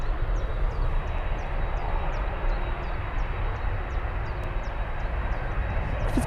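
TUI airliner at Manchester Airport in the early morning, a continuous broad engine roar heard from a distance, steady and unbroken, with faint high chirps over it.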